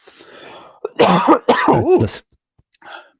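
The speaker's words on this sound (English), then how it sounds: "I'm probably going to cough like 6 more times." A man coughs and clears his throat in a few harsh, close bursts, followed by a quieter short cough after a pause.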